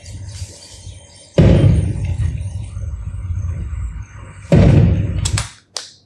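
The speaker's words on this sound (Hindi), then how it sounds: "धमाका इस जगह पे हो जाता है और आवाज़ बाद में आती है" Two deep, booming blasts a few seconds apart, each trailing off into a rumbling decay, with quieter noise in between.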